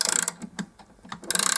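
A key winds a Junghans half-hour striking clock, with rapid ratcheting clicks in quick bursts at the start and end and a few slower separate clicks between, close and fairly loud.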